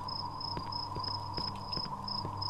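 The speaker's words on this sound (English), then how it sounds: "Crickets chirping." Steady high cricket chirping pulses repeat over a constant hum, with soft thudding footsteps underneath in the video game Cry of Fear.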